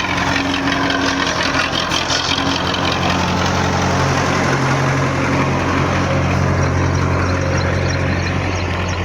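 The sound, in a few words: Belarus MTZ 50 tractor engine pulling laser land leveler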